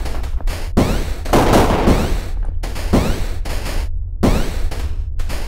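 Rapid bursts of gunfire from the video game Overwhelm, several loud close volleys broken by short gaps, with no talking over them.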